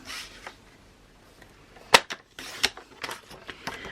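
Paper for a scrapbook album is cut with several sharp, crisp snips and clicks in a quiet room, separated by short pauses.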